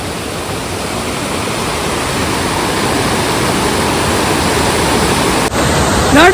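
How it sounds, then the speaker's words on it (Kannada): A small waterfall with flowing water on a trekking route near Mullayanagiri, a loud continuous rushing roar heard up close, steady for the whole stretch with no voices. "ಇಲ್ಲೊಂದು ಸಣ್ಣದ ಫಾಲ್ಸ್ ಐತ್ರಿ"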